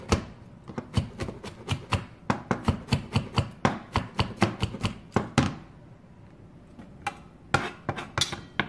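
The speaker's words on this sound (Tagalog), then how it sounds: "chop them fine, very fine, so you cannot taste the ginger" A knife finely chops ginger on a board, striking in rapid, even beats. After a short pause near the end, a few more sharp chops follow, close and crisp.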